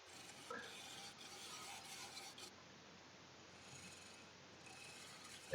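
Elm bowl being smoothed on a wood lathe, a faint, steady rasping hiss of abrasive against spinning wood that runs continuously with slight variations.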